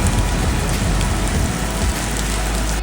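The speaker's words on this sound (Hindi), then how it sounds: "खतरनाक बारिश, ऊपर से फॉग लगा हुआ है।" Heavy downpour in the foggy Ladakh mountains, a dense, loud, continuous hiss of rain pounding surfaces with a low rumble beneath and no voices.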